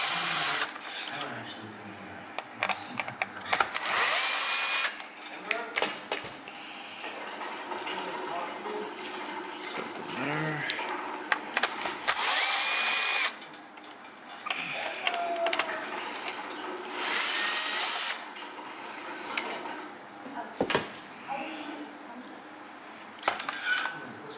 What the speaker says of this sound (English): we're just going to continue to pull the screws off